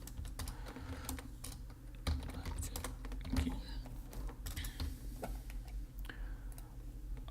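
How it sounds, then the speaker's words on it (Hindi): Text is typed on a computer keyboard, a quiet close run of irregular key clicks with a few louder taps, no talk over it. "इधर हम लिखेंगे नसरीन"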